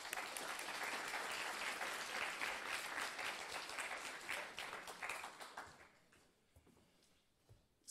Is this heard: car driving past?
no